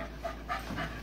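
A Cocker Spaniel pants nearby in quick, soft, rhythmic breaths against a low steady hum.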